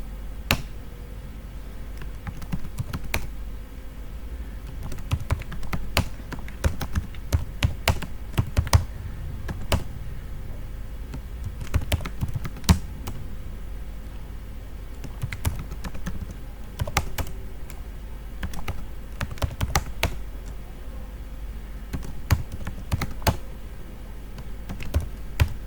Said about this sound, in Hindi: स्टूडेंट्स नेम डमी टाइप कर लेते हैं।